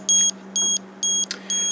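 An Olympus OM10 camera's self-timer, held close to a microphone, beeps in four evenly spaced bursts of a bright, shrill electronic tone, with a low steady hum underneath.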